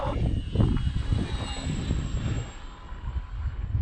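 Electric brushless motor on a Conscendo Evolution RC glider at a flying field, a loud steady droning whine with wind rumble, held throughout without talk.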